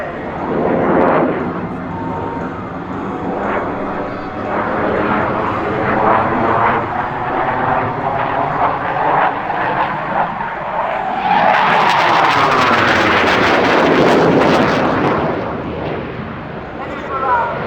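An Alenia Aermacchi M-346 Master jet of the Italian Air Force at the Sanicole Airshow, a loud roaring pass that swells and sweeps in pitch, with a commentator's voice over it.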